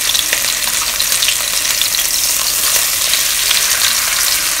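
Chicken chops fry skin side down in hot oil in a pan, giving a loud, dense, continuous crackling sizzle that stays steady throughout without pauses.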